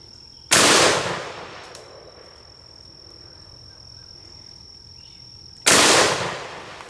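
Two sharp, loud SKS rifle shots crack outdoors about five seconds apart, each with a short decaying echo, against a faint steady background hum.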